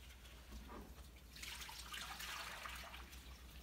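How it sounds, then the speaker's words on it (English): Water poured into a Christmas tree stand, starting after a quiet second as a steady, fairly close splashing pour that runs to the end with no talking. "We're putting the water in."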